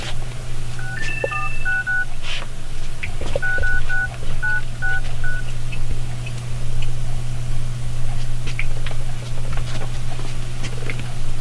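An old, basic mobile phone dials a number: a quick run of DTMF keypad tones comes in two bursts over the first five seconds, with a steady low hum underneath and faint ticks and rustles afterward.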